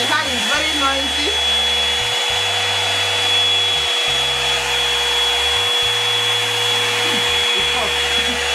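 A Revlon One Step hair dryer runs on its high setting, giving a loud, steady roaring whine with a shrill tone. Its pitch and airflow shift slightly as it moves, heard close up throughout.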